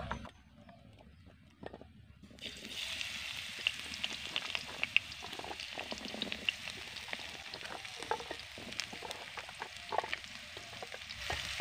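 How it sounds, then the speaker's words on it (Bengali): Drumstick pieces dropped into hot oil in a wok: quiet at first, then a sudden strong, crackling sizzle that keeps going steadily with scattered pops. "তেলটা কিন্তু ভালো করে গরম হয়ে গেছে। এবার কেটে রাখা সজনে ডাঁটাগুলোকে আমি দিয়ে দেব।"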